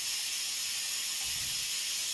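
A pressure cooker hisses steam in a village kitchen in Konkan, a steady, loud, bright hiss that runs unbroken from start to finish.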